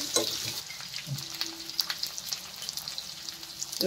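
Onions fry in a pan for a paneer masala curry, giving a steady close sizzle with scattered stirring clicks and a faint tonal hum, with no talking.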